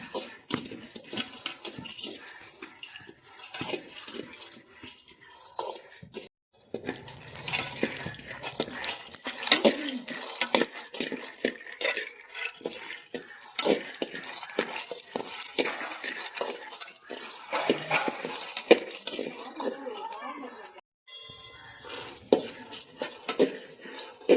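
Peanuts roast in a pan while being stirred, giving repeated scraping and rattling of a spoon against the metal in uneven bursts, with a short pause partway through and light sizzle.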